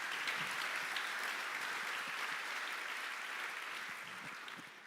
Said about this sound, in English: Short round of applause for Frank.